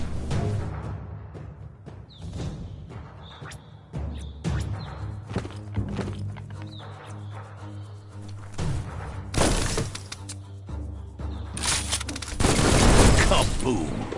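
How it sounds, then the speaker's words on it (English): Gunfire and a shattering explosion in the video game Biomutant, scattered shots and breaking impacts building to a loud, noisy burst near twelve seconds, with a voice talking over parts of the scene. "That looks splody. Shoot it and watch it blow."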